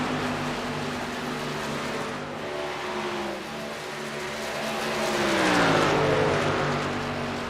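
Race trucks in a SERL truck series finale roar around a Las Vegas track, a steady engine drone with shifting pitch that swells loudly near the end as a pack passes close.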